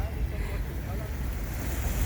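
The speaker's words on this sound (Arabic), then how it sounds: "نقفل لكم بقى الفيديو الحلو ده بشويه موجه بقى واصوات الميه وشكل الميه الجميل ده اهو" Sea waves wash steadily along the shore at Abu Qir in Alexandria, a close, continuous rush of water mixed with wind buffeting the microphone.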